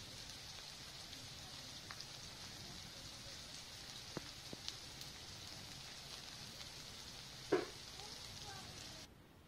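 Turmeric, chilli and cumin powder sizzle in hot oil, a soft, even crackling hiss that runs throughout, with a few sharp clicks and a brief clatter near the end before it drops away.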